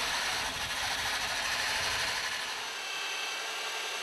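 A steady, high-pitched whirring drill runs continuously, boring through material at a constant speed, fairly faint and without pauses.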